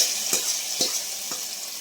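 A tempering for moong dal sambar crackles and sizzles steadily in hot oil, with a few sharp clinks of a spoon against the pan and no talking.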